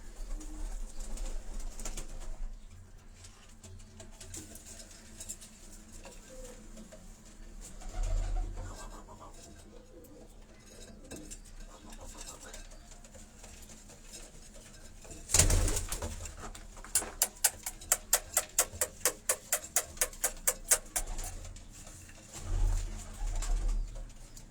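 Pigeons coo softly on a Karachi rooftop with low, repeated calls. Midway a burst of quick rhythmic flapping or clicking cuts through the quiet, followed by more cooing.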